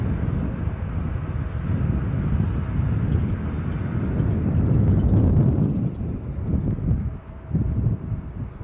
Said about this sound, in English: 757 Star Alliance livery on approach.